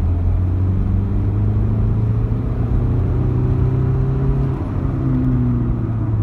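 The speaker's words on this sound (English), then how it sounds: "the car will shoot off" A tuned car fitted with an EDC15 diesel ECU pulls away hard from a rolling launch, its engine a loud, steady low rumble and whir that holds close and continuous with no talk over it.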